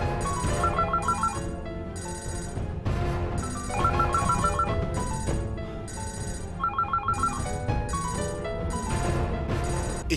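A mobile phone's electronic ringtone plays a repeating melodic pattern in steady cycles, loud and close, with no voices.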